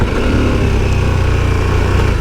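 A KTM 1290 Super Adventure S motorcycle engine running hard under acceleration, a loud, steady, close-up drone with continuous wind roar and no speech.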